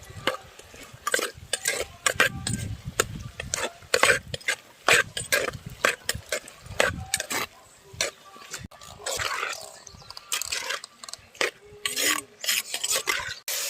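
Chicken curry with turmeric is stirred in a pot, with repeated rasping scrapes of a spoon against the pot bottom in an uneven rhythm, close and fairly loud, with occasional low thuds between strokes.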